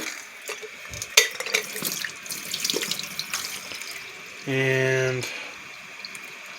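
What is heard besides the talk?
hot water running from tap to fill coffee maker carafe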